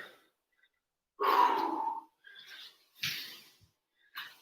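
Heavy, labored breathing during a home workout after burpees: a long loud gasping exhale followed by several shorter panting breaths, close to the mic with no talk.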